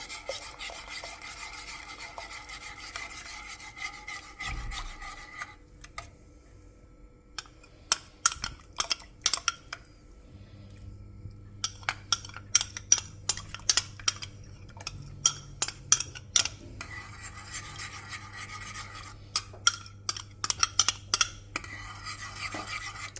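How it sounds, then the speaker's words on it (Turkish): A spoon stirs a yogurt mixture into a carrot vermicelli soup as it is poured in slowly, giving sparse scraping and clinking against the pot. The sounds come in irregular, quiet bursts separated by pauses. "Evet şimdi bunu şöyle karışıma yavaş yavaş sürekli karıştırarak ilave ediyorum"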